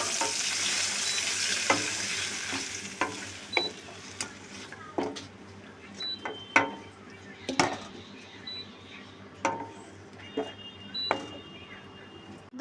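Bombay duck (lote fish) frying in oil in a kadai, a bright continuous sizzle broken by regular scraping stirs and metallic spatula knocks, close and fairly loud.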